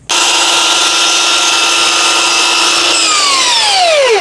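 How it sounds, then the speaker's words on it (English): A power miter saw cutting wooden crown molding upside down for kitchen cabinets, a loud steady whine through the cut that drops in pitch as the blade spins down at the end. "Now when you're cutting crown, you're cutting it upside down and backwards."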